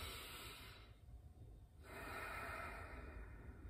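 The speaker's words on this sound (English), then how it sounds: "And you take a few deep breaths." Slow, deep breaths taken during a calming relaxation exercise, a close airy inhale and exhale with a brief quiet pause between them, no talking.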